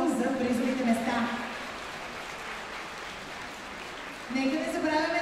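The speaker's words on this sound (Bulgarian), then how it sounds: "Силни аплодисменти отново за призовите места." Applause rises for the prize-winning couples at a dance competition, a soft broadband patter between stretches where a voice talks over the crowd at the start and end.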